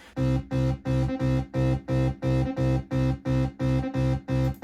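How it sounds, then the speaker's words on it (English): Korg M1 plugin bass and high-pitched synth in a happy hardcore tune, pulsing in evenly spaced, punchy stabs at a fast regular tempo, loud and alone with no voices. "So all those bass sounds, Cog M1 plugin."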